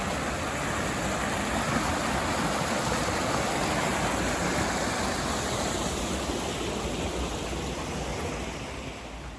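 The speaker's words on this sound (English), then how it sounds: "even though we're in a desert, there's a creek right here." A creek flowing through a desert near a hiking trail, giving a steady broadband rush of running water that stays loud and constant throughout, with no voices.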